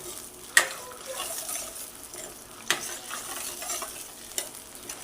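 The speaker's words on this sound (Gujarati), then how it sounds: "હવે એને સરખી રીતે હલાવી લેવાનું છે સરખી રીતે મિક્સ કરી દઈશું" Bottle gourd bharta stirred and mixed in a pan, a steady soft scraping hiss with three sharp spoon knocks against the metal spaced over the stretch; no talking.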